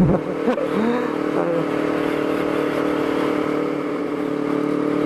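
A two-cylinder sport motorcycle, a Honda CBR, revs up sharply at the start, then settles into a steady, loud engine whine that holds alone throughout.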